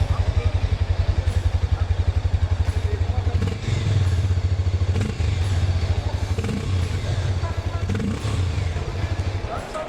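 A Harley-Davidson X440 single-cylinder motorcycle idles close by, its exhaust giving a steady, deep, raspy low thump with even rapid pulses and slight throttle variations throughout.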